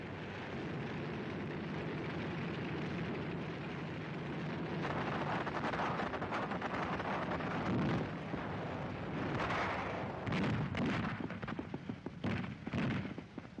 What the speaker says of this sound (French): Les hommes tirent.